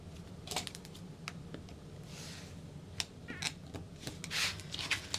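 Scissors snipping through fabric to cut a small D-ring connector piece for a sewing project, giving a string of short, sharp crisp cuts at close range against a quiet room.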